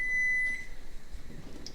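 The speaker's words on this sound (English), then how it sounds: "Turn off the timer here." A kitchen timer gives a steady high beep for about half a second and then cuts off, with quiet kitchen background noise afterward while eggs and bonito-flake broth are being cooked.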